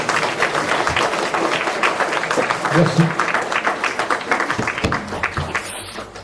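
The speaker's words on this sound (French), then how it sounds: "je pense qu'on peut réellement applaudir et remercier" Audience applause at a literary seminar, irregular bursts of clapping that thin out toward the end, with a voice speaking briefly over it.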